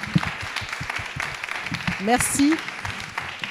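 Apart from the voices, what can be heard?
applause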